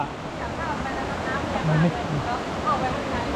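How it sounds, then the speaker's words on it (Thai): A strongly flowing, cascading waterfall at Chet Khot in Saraburi, Thailand rushes in a constant broadband roar, with a faint voice briefly audible beneath the flowing water. "น้ำตกไหล หลั่นลงไปเรื่อยๆนะครับ"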